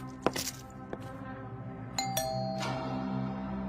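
A house doorbell rings with a ding-dong chime, its clear tone ringing out and then decaying, with a few light clinks and thumps before it.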